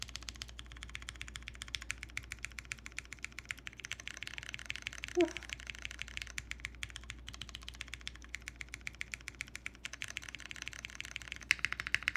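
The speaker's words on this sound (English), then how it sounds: "Are you guys listening to this space bar?" A mechanical keyboard being typed on, its space bar and keys producing a rapid, continuous stream of close, sharp clicks and clacks at a quiet level.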